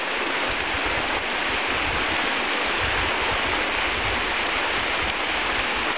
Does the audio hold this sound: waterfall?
yes